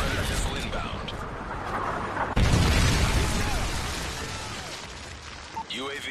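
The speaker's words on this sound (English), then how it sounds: "Friendly Predator missile inbound." Predator missile strike in Modern Warfare 3 team deathmatch: a sudden, loud, broadband blast partway through, followed by a long, crackling, debris-like rumble amid busy game sounds.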